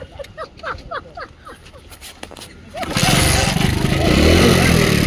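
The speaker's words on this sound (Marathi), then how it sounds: "रेस कर रहा है तू" A motorcycle engine starts and revs hard, rising into a loud, sustained close roar after a few seconds of chatter. Voices talk over the engine throughout.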